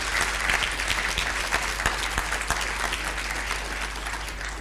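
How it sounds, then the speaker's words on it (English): Sustained applause from an audience at a learning event closing plenary, dense steady clapping filling the room with no speech over it. "Let's give them a round of applause."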